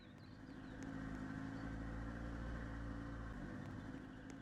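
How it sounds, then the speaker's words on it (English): A steady droning engine hum loops as a sound effect on a boat in a video game, continuous and even at moderate, fairly quiet level with a slight swell at the start. "I added an engine in there for like sound effects."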